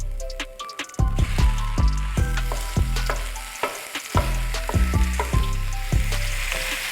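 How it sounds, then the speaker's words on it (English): Ground beef dropped into a pan of browned onions for a spaghetti meat sauce, sizzling loudly with repeated clanking and scraping stirs up close, no talking. "So now I'm gonna go ahead and throw in our ground beef."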